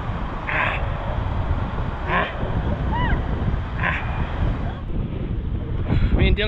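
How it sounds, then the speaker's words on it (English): Gusty wind buffets the microphone with a rumbling roar near the water in Spain, punctuated by brief higher calls and noises in the distance. "It's a bit windy today, you might not be able to hear this."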